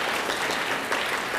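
An audience applauds for a judge being introduced at a school spelling bee: a dense, even burst of many hands clapping, loud and close, filling the short moment.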